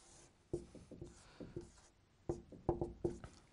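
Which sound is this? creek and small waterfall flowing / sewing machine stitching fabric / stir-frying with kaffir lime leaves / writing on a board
writing on a board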